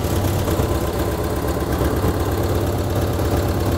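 An overheating Mexican VW Beetle's engine running steadily at idle, a loud continuous low throbbing close to the microphone with no talk over it.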